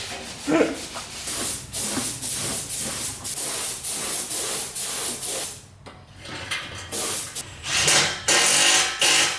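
Fluid gushes out of a differential being drained on a WRX with a swapped 2.5RS engine, a loud, steady spraying hiss broken by short pauses and bursts, close to the listener.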